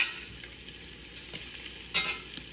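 French toast slices frying in a pan after being flipped, giving a steady close hiss of sizzling with a few soft crackles and small pops.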